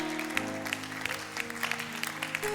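A church congregation applauds in acclamation of the Lord during a closing worship service, with a steady wash of clapping under sustained organ or keyboard chords and a faint voice.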